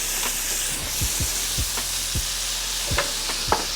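Seasoning being stirred into a seafood pasta sauce in a pan, a steady sizzle with a series of sharp utensil scrapes and taps close by, and no talking.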